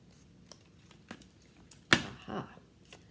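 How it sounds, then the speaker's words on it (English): Scissors snip through paper to cut out a shape, a few quiet, separate cuts with one sharper, louder snip near the end, heard alone in a quiet room. "Cut very carefully."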